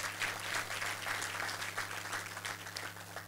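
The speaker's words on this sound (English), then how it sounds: "Let's give him a round of applause now." Steady applause from a banquet audience at a Rotary Club centennial awards dinner, a dense continuous patter of many hands over a low hum, with no individual claps standing out.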